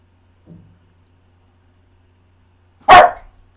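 A dog gives one sharp, loud bark close by, preceded by a faint low whimper, with near silence around it.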